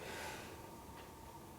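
A single deep, drawn-out inhale through the nose during a yoga exercise, close and breathy, lasting about a second and a half with no talking.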